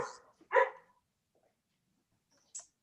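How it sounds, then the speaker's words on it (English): A dog barks in the background of a virtual tech meeting: a few sharp, moderately loud barks followed by a short higher yip after a pause, with no talking. "I had a dog in the background."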